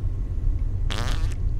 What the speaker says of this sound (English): Fart more, that helps.